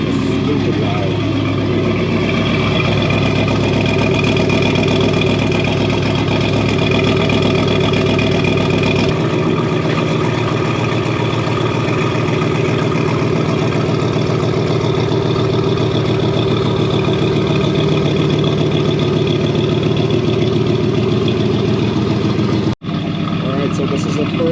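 A Ford Crown Victoria with a swapped 7.3L Godzilla V8 and a Whipple supercharger idles very loudly, a steady, rumbling drone held nearly the entire time before a brief cut near the end.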